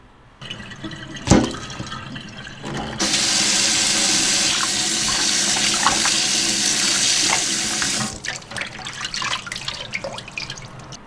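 Tap water running steadily into a sink for several seconds as a blanched pork hock is rinsed, with clunks and splashes before and after the flow.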